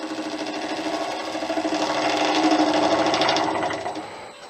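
A lathe facing an HDPE mallet blank held in a chuck gives a steady, close whirring hum with a fast rhythmic chatter that swells through the cut, then tapers off near the end.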